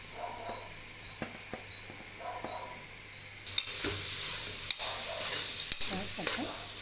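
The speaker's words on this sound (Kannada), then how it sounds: "ಸ್ವಲ್ಪ ಫ್ರೈ ಮಾಡೋಣ." Chopped coriander and mint sizzle in a pan for tomato bath as they are stirred, with scraping taps at first and a louder, fuller hiss after a few seconds.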